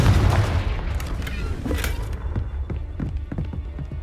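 A Confringo fire-blast spell explodes in the Hogwarts Legacy video game, with a loud booming burst at the start that fades into a rumbling tail dotted with sharp cracks and thuds.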